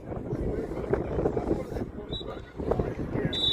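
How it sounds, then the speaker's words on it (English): Strong wind gusting across an outdoor non-league football ground, a steady rumbling buffet against the microphone with faint crowd noise and a commentator's voice over it. "the game's been spoilt by the wind"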